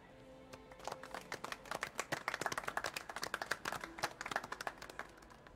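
Several people clap in a steady patter of applause in the video game Marvel's Spider-Man on PS4, faint and slightly distant, with no talking.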